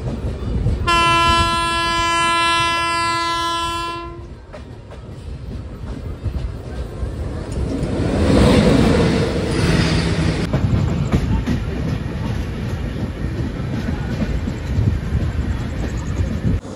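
The Kamrup Express sounds a long, loud horn blast, then rolls on with rumbling, clattering wheels that swell and stay steady, passing close, with no voices.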